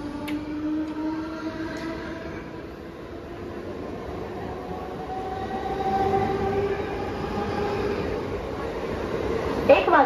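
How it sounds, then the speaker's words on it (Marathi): A fast Mumbai local train rushes through a station platform, a loud sustained roar of wheels and carriages building toward the end, with station announcements and voices underneath. "एक जलद गाड़ी जाणार आहे, कोणीही रेल्वे लाइन ओलांडू नका।"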